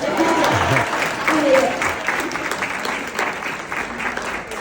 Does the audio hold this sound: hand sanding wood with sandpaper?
no